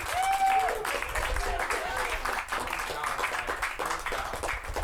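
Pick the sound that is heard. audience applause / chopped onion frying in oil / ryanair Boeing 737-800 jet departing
audience applause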